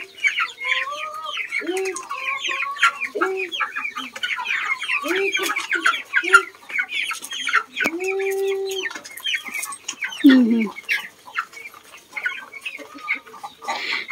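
Flock of hungry backyard chickens clucking and squawking close by at feeding time, a busy overlapping chorus of calls with occasional louder cackles and a faint voice now and then.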